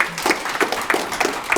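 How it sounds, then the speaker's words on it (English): Audience at a live FitCoachU speaking event clapping for a guest, a mid-level burst of applause with a few louder clap peaks spread across the short stretch. "give a round of applause for my man Splashman."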